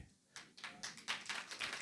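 A small audience claps for a preacher, a few scattered, uneven claps that are quiet and brief, and no talking.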